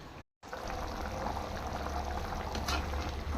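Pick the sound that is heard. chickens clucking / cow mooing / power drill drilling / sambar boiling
sambar boiling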